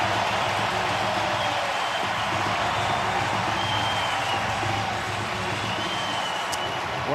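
A baseball stadium crowd in Toronto roars after a Springer extra-base hit in an AL Championship Series game, a dense, sustained wall of cheering that holds steady throughout.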